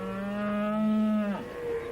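A single long, loud cow moo held steady, then dropping off into a lower trailing tail, heard alone in a children's outdoor camping scene.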